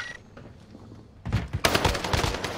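Rapid gunfire from a video game erupts after a quiet second and turns into a dense, loud burst of repeated shots that continues to the end.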